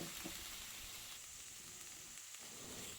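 Pieces of sheep tail fat fry in a pan, making a soft, even sizzle and hiss with faint crackling and no talk, fairly quiet and steady throughout.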